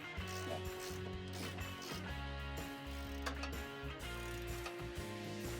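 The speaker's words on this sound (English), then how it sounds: "Begin with a 17mm ratcheting wrench to tighten the hardware" A 17mm ratcheting wrench tightens the bolts of a U-Haul trailer hitch on a 2019-2025 Toyota RAV4, producing steady, repeated ratchet clicks under a continuous tonal background.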